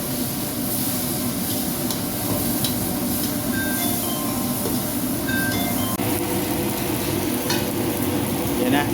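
Beef biryani ingredients frying and being stirred in a pan after coriander roots go in, a steady sizzle with scraping and clinking of the utensil throughout, close and continuous with no talk.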